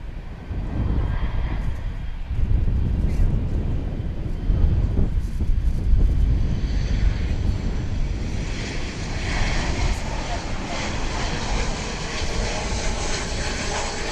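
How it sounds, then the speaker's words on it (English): An airliner arriving at Dallas Fort Worth International Airport from Austin passes with a sustained engine roar, joined by a brighter, rising whine in its later part as it draws nearer. "Got another flight coming in from Austin now"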